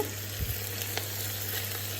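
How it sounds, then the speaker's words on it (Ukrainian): A soft, steady sizzle of minced meat frying in a pan, with a brief scrape of stirring near the start. "У цій сковорідці все перемішаю."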